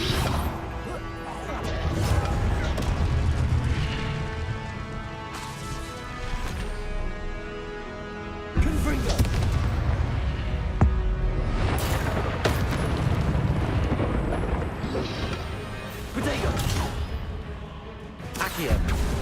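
Confringo blast spells exploding in the game Hogwarts Legacy, several loud crashing impacts and whooshing bursts over a busy score, with voices talking throughout.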